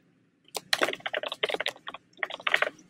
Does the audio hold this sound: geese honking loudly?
no